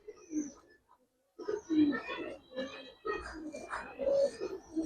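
Giribaz tumbler pigeons coo in repeated throaty bursts at close range, with short pauses between phrases and a brief silence early on.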